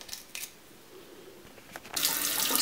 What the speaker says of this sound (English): Just run it under some running tap water.